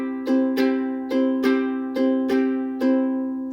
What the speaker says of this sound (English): So just practice that little shuffle on its own, just with the C.